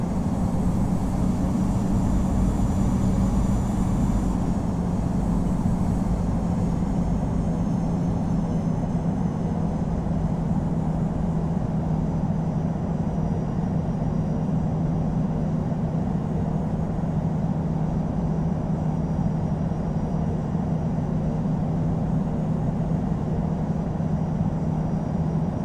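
Airliner taxiing to the runway in the Infinite Flight game, a steady, moderate jet engine hum with a constant low whine throughout, no voices heard.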